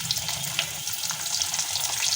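Potato pieces seasoned with turmeric and salt sizzle and fry in a pan, a steady close crackle with light stirring scrapes running through the whole moment.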